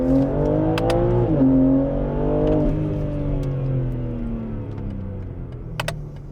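BMW G80 M3 with the S58 turbocharged inline-six, its modified exhaust revving loudly up and down in sustained rising and falling sweeps, heard up close with no talking.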